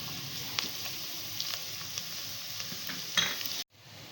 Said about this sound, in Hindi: प्याज में गोल्डन कलर जैसे ही आया मैंने इसमें ये टमाटर डाल दिए और इसको भी चला दूँगी